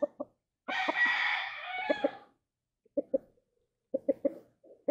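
A young stag rooster with white legs crows once for about a second and a half, set among short clucks and calls from other chickens close by.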